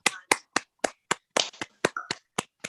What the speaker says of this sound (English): give the cast a round of applause